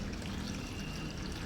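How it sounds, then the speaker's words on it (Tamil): Water spilling steadily over the brim of a full storage tank, a constant soft rushing trickle with no pauses, moderately quiet and without voices. "காலையிலேருந்து இந்த டேங்க் வந்து நிறைஞ்சி தண்ணி வெளியே போய்கிட்டே இருக்குது"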